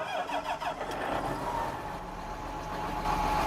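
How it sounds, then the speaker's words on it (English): American-style tractor engine in the video game Farming Simulator 25, a steady mid-pitched diesel drone that rumbles up slightly louder toward the end, heard close and alone. "these tractors, sound incredible"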